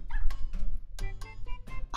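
A dog in the video game Super Mario Maker 2 barks and yips in several sharp bursts at an irregular rhythm, close and clear with no talk.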